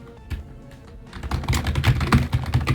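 Fingers typing on a pink CQ84 Huo Ji mechanical keyboard with brown tactile switches, a close, steady rattle of keystrokes that starts sparse and grows into quick, dense clacking.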